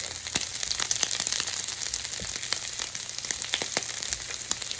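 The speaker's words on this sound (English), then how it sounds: "This is our steak and our pork belly still on the grill, but it's almost finished." Steak and pork belly sizzle steadily on a grill, fat crisping into a dense, even hiss broken by occasional sharp pops and crackles, close and continuous without any talk.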